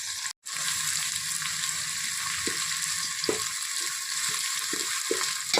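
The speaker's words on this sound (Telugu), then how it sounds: "మనం ఉన్నప్పుడే అల్లం వెల్లుల్లిపాయ పేస్ట్ వేస్తాము" Ginger garlic paste frying in hot oil, cooking for an old-style chicken biryani, gives a steady loud sizzle with a few soft stirring clicks and no voices, broken once near the start by a short gap.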